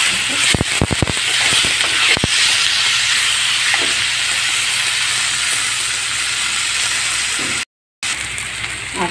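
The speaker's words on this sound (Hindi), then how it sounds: "आलू डाल करके थोड़ा सा भूनने के लिए आप इसे अच्छे से भूनें" Grated potato frying in a pan for upma, a steady loud sizzling hiss with a few sharp spatula clicks early on and a brief cut near the end, no talking.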